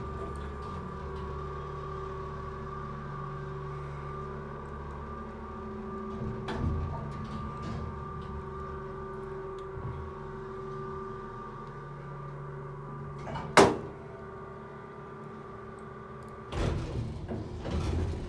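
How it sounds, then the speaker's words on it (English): An aging 1960s-era Pittsburgh hydraulic elevator's piston pump motor runs as a steady, tonal drone, with a few sharp clicks and knocks breaking through the hum. "possibly piston pump motor"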